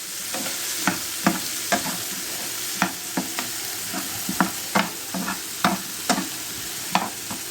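A spoon stirs ingredients with chopped garlic in a hot pan, giving a soft sizzle broken by a dozen or so sharp scraping clicks at an uneven rhythm, close and fairly quiet.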